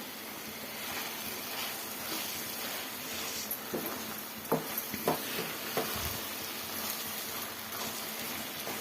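Onion chutney frying in oil in a pan, a soft continuous sizzle with occasional scraping stirs and small pops, quiet and close, no voices.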